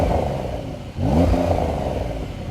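Turbocharged flat-six of a new 2020 Porsche 911 revving, a steady engine drone that dips briefly and then swells into a louder rising rev before settling back, heard close with no talk.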